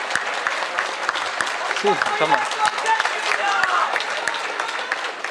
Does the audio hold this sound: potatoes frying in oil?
no